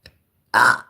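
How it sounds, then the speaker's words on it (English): A man lets out a single loud, rough burp in a quiet room, lasting under half a second and following a brief faint sound just before. "Excuse me, beauty burp."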